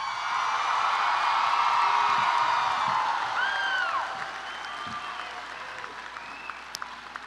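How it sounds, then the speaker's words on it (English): A graduation ceremony crowd at Buckhorn High School applauds the graduating class, loud sustained clapping with some whoops that fades to sparse scattered claps. "let's take a moment and give a warm round of applause to our amazing graduating class"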